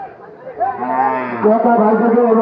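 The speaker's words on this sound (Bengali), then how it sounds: "আমরা আরও কিছু বড় একটা বড় গরু দেখাচ্ছি" A cow at a busy cattle market lets out a loud, close, drawn-out moo that rises and holds, with faint voices and crowd noise behind.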